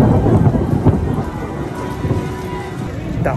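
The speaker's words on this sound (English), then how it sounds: "it's starting to rain even more" Heavy rain pours outdoors at Universal theme park, a dense, steady roar of water with thunder rumbling low beneath it throughout, loud and close with no clear break.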